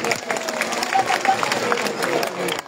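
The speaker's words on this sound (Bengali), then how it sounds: "আমরা সবাই হাততালি দিয়ে ওনাকে অভিনন্দন জানাই" A rally crowd at the Teesta point in Ulipur claps for the chief guest, producing a dense, continuous wash of applause that stays fairly loud and even throughout.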